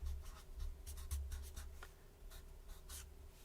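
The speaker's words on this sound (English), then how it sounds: "Do you want me to write that down?" Pen on paper as a note is written by hand, giving faint, close scratchy strokes in short irregular bursts over a low background hum.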